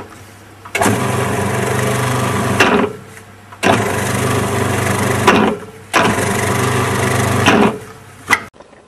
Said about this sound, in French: Venir mixer le sucre glace